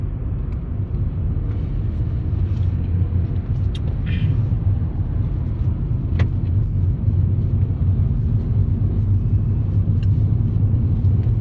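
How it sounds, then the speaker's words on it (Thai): Steady low road rumble from inside a car driving along a highway near Khon Kaen, Thailand, continuous and fairly loud, with a few faint clicks and squeaks above the drone. "ตอนนี้เราก็กำลังขับรถไปตามถนนนะครับ"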